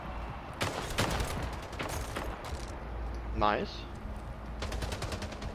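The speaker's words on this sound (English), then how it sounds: "I really like the SMG in this" SMG fire in the arena shooter Splitgate, several rapid automatic bursts crackling loud and close, with a short spoken remark and other game effects between them.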